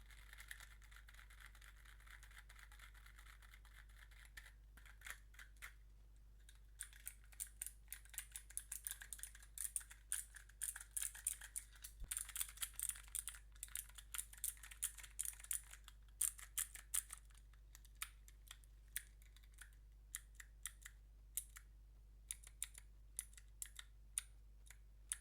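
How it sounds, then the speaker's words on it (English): Quick bursts of typing on a real computer keyboard, soft close clicks and clacks in uneven flurries with brief pauses, quiet and intimate over a low steady hum, with no talking. "when I use a real keyboard and I'm typing stuff"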